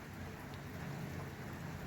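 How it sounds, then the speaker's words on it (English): Gentle, steady rain falls continuously in an Australian rural setting after a day of soaking wet weather, a soft even patter filling the whole clip with no voices. "It's been raining since lunchtime yesterday."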